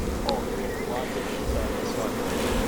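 Honey bees buzz over brood frames pulled from a hive during spring colony splits, a steady close hum running throughout with brief brushing and handling noises.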